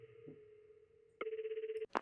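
A phone call connecting in a video game: a steady electronic tone hums, then a louder pulsing ring starts partway through and cuts off abruptly near the end.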